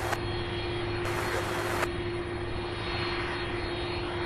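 Jet airliner rolling for takeoff at Louisville airport, a continuous loud engine roar with a steady whine, close and sustained without speech.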